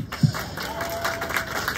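Audience at a celebration event clapping in a room, a soft, steady spread of many hands at moderate distance, with a brief thump near the start.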